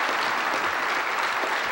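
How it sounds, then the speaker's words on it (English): Audience applause at a speech on America's future in Iraq, a thick unbroken wash of clapping from a large hall crowd, loud and even throughout with no voices. "Let's give him a rousing round of applause."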